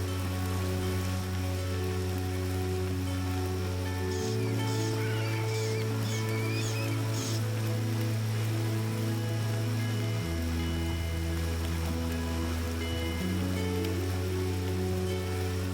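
Constant downpour in a video game hisses as a dense, unbroken wash of rain on surfaces, steady and fairly loud, while sustained low music tones drone beneath it.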